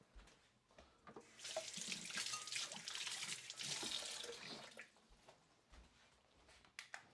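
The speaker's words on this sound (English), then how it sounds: "Give this a rinse and we'll cut it up." Lemongrass rinsed under a running kitchen tap, a faint, close stream of water that swells and splashes over the stalks, then tapers off into drips and light handling.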